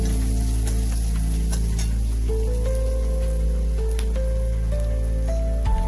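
Two finely chopped onions sizzle loudly in a hot pan as they are stirred, a steady, dense hiss that runs throughout beneath soft background music.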